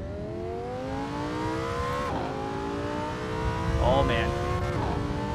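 Lamborghini drift car in Assetto Corsa at Spa, its engine revving in rising and falling harmonic sweeps with a brief tire squeal near the end, loud and continuous while someone speaks briefly over it.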